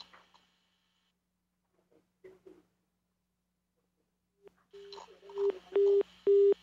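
A telephone busy signal over a radio call line: after near-silence and a few faint clicks, a series of steady beeping tones pulses in regular, evenly spaced bursts, growing louder toward the end.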